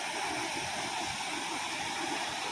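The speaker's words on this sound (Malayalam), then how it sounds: "ഓരോ പാറയുടെ ഇടയ്ക്ക് കുഴിയിലും വെള്ളം ചാടി ചാടി താഴെ ഒരു വെള്ളച്ചാട്ടമുണ്ട്" Water cascades between rocks and into hollows at a waterfall, a steady dense rushing roar with no voices.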